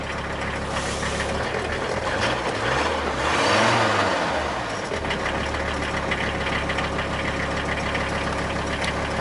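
Mercedes car engine idling steadily after a brief rev, a low continuous rumble that swells slightly midway then settles into an even hum, close by with no talk.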